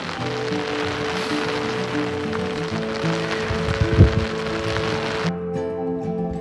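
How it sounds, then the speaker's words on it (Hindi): Steady heavy rain pours down on a mountain trek with a dense, even hiss, alongside a low tonal hum and a brief thump near the middle; the hum continues after the rain thins. "बारिश और फिर हो चुकी है"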